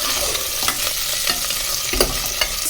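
Onions and potatoes frying in a pan for Telugu potato curry, a continuous close sizzle with a few stirring scrapes and clicks over the top.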